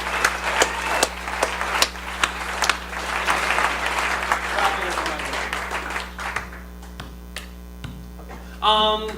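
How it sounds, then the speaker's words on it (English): A campus comedy competition audience at Iowa State's VEISHEA 2013 gives the performers a big round of applause. Dense, loud clapping fades away over several seconds, with a strong mains hum underneath and a voice briefly heard at the end. "Can we get one big round of applause for all our performers?"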